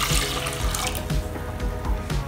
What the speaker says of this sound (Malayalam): ഇതിലേക്ക് വെള്ളം ഒഴിച്ചു കൊടുക്കുക.